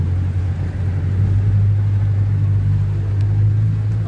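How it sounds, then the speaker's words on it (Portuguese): A car drives in second gear through a flooded street in Canindé de São Francisco, its engine a steady low rumble with water churning around it, continuous and close, with no voices. "Tem que botar a segunda no carro"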